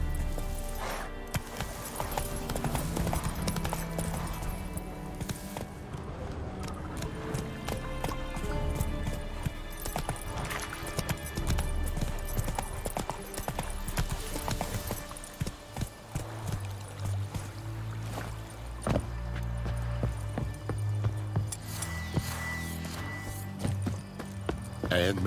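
Horse galloping in The Witcher 3: continuous rhythmic hoofbeats thud close by for the whole stretch, with occasional snorts and a voice speaking over the game sounds.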